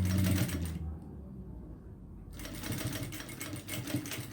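A sewing machine stitches a fabric passport holder, its rapid mechanical whir running in bursts with a short pause in the middle, close and fairly loud.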